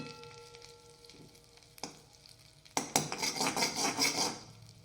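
Butter sizzles in a hot pan, starting quiet with a few clinks of metal, then a loud bright crackle swells and stays steady.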